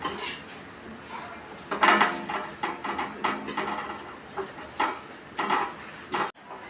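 Lachha vermicelli being stirred and fried in a kadai, a spatula or spoon scraping and clattering against the metal pan in repeated strokes, close and fairly loud with no talk.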